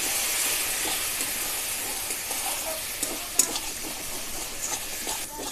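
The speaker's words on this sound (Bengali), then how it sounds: "বন্ধুরা, তেলগুলো ছিটছে, তাই জন্য আমি সামান্য জল দিয়ে দেব।" Spice masala for Bengali Tel Koi fries in hot oil with a splash of water, giving a continuous close sizzle and hiss with occasional spatters and stirring scrapes.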